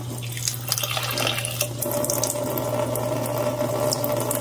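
Water trickles steadily out of a Samsung fridge's defrost drain into a pan, a soft continuous flow over a low steady hum from the unit.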